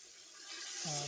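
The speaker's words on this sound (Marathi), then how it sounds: "हे थोडंसं पाणी टाकून घेऊ" Water pours briefly into a pot of chicken biryani ingredients with a soft splashing rush that rises in pitch as it fills, faint and close.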